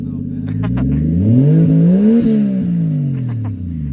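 Toyota Soarer fitted with a new aftermarket exhaust and blow-off valve, its engine revving up and dropping back in a steady rising-and-falling sweep, close and loud, with brief whooshing blow-off releases at the start and end.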